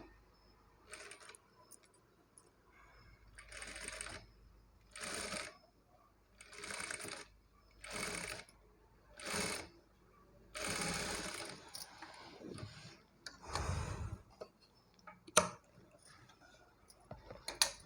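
A sewing machine stitches piping onto the main fabric of a pot-neck blouse, close, in about eight short whirring bursts separated by pauses, ending with a few clicks and taps.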